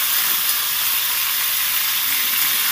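Potatoes frying in hot oil, a steady loud sizzle and hiss that holds constant throughout with no talking.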